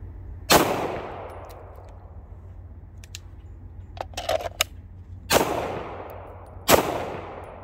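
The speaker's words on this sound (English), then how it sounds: "we are going to shoot this from about 10 feet" Three loud, sharp 9mm gunshots of common self-defense ammunition strike a newly built armor target from about 10 feet away. Each crack is close and ringing with a decaying tail, and faint clicks and handling noises fall between shots.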